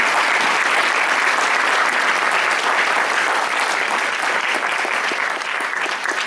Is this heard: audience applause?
yes